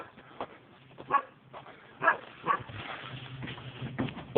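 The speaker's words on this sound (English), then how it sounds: "These dogs right here are not very friendly." Several unfriendly farm dogs bark in sharp, scattered bursts at fairly close range, with quieter yips and whimpers between the louder barks.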